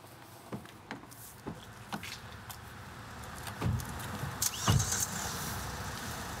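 People climb into a car, with rustling, clicks and door and seat knocks that build to a couple of louder thumps, close inside the cabin, no talking.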